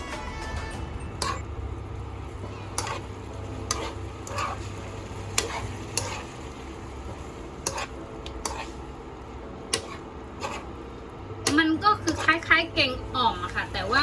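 Food being stirred in a pot for a northern Thai curry: intermittent scraping and clinks of a utensil at irregular intervals under steady speech, with a soft sizzle and a busier flurry of stirring near the end.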